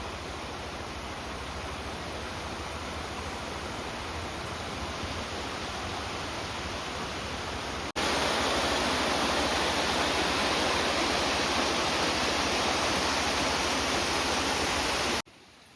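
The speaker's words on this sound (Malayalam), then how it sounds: "ഒരു ചെറിയ പുഴ ഇങ്ങനെ ഒഴുകി വരുന്നുണ്ട്" A small river near a small dam rushes loudly in a steady, dense roar of flowing water. The sound jumps louder about halfway through and then cuts off abruptly at the end.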